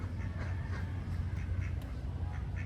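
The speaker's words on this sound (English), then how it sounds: "Now, those are ducks right there on the right." Ducks quack repeatedly and steadily at Paradizoo theme park in Mendez, Cavite, Philippines, a busy flock heard close by with overlapping calls and no talking.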